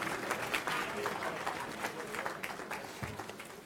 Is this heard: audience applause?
yes